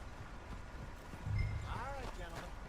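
Horse hooves clip-clop softly in Red Dead Redemption 2, a faint rhythmic trot under the game's background sound, with a brief low thud partway through.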